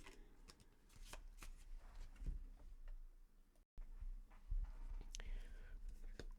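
Luminous Pathways oracle cards are shuffled in soft, close riffles and slides, a brief pause breaking the quiet, papery flutter, with faint whispered speech underneath.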